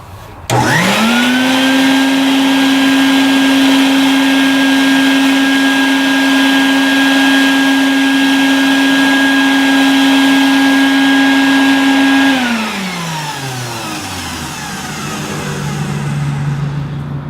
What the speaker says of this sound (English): You can watch the road cone deform when I turn on the vacuum